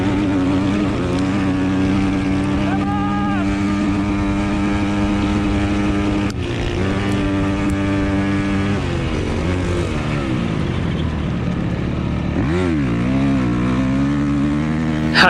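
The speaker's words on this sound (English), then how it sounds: "5th gear not pulling, 4th gear on the rev limiter." A Honda CRF250X dirt bike engine screams near the rev limiter while climbing uphill in a desert harescramble race, a loud sustained close buzzing with pitch shifts, brief dips and surges as the gears struggle.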